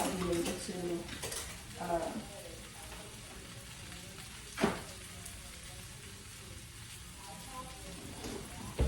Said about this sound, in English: let me grab a spatula so I can be able to flip them over as well